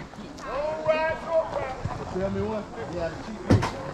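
Horse hooves clip-clop at a walking pace on the ground during a trail ride while people talk over them, with a sharp knock near the end.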